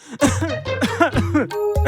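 An old man coughs in a rough, raspy burst of several hacking coughs with throat clearing, close and loud, with no talk over it.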